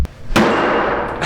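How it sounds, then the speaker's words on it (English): A waffle-faced hammer strikes a block, giving a sharp thud at the start and a louder crack a moment later that rings and decays, with another faint knock near the end. "I'm really curious to see what will happen if I hit it with the waffle-faced hammer."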